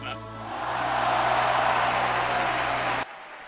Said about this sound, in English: They're cheering for me!